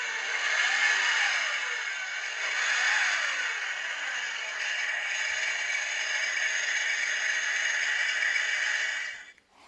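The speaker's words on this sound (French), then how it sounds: "Et on obtient le son du moteur." A tinny electronic engine sound from a 1/8-scale Porsche 917KH model plays continuously from a small speaker, a thin buzzing drone with slight revving swells, stopping abruptly at the end.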